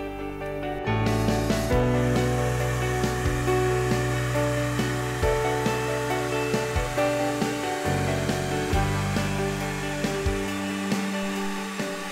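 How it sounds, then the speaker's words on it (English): A heat gun blows with a steady, loud electric whir while vinyl is heated and pressed into a deep channel, its motor hum running continuously after a sharp switch-on. "So heat here, with the heat gun pointing away from the channel, and make the application here."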